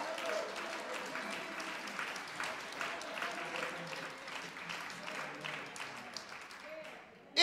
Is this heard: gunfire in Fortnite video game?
no